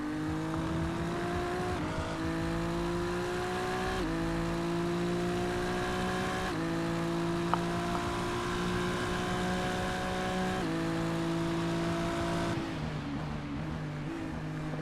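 Race cars lapping Sebring in a racing video game produce a steady, loud engine drone that shifts pitch with each gear change, with no pauses and no talk over it.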